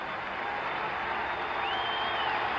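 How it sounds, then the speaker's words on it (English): Crowd at the Boston Garden giving a standing ovation after a 1970 Stanley Cup semifinal ice hockey game between the Bruins and Blackhawks, sustained applause and cheering filling the arena. "both these teams are getting a standing ovation from this crowd"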